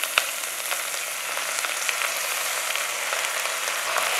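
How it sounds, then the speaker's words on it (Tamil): Soaked basmati rice fries with chopped spring onions in a hot pan, a continuous crackling sizzle with light scattered pops, close and even throughout. "இப்போ இதை வந்து ஒரு 2 நிமிஷத்துக்கு நல்லா வறுத்துக்கணும்."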